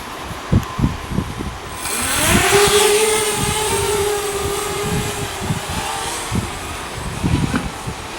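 An Eachine Falcon 250 FPV racing drone arms and its motors spin up into a loud, steady whine that holds for several seconds, with some louder rustle and bumps before and after.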